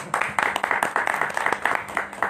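Applause from a small audience at a tabla solo performance, a short burst of brisk, uneven hand clapping at close range.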